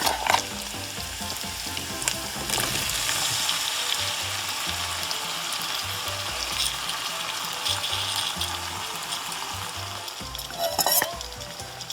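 Chickpeas (channa) coated in curry powder frying in a pot, with a steady, loud sizzle and crackle throughout and occasional stirring scrapes, without any talking.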